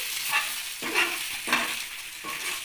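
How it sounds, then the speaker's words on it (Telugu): Eggs mixed with pepper powder being stirred in a pan with the gas turned off, a few rhythmic scraping strokes over a soft residual sizzle, close and moderately quiet. "ఇక గ్యాస్ బంద్ చేసుకొని మనమైతే ఇక బాగా ఈ గుడ్లు అనేది కలిపేసుకోవాలి"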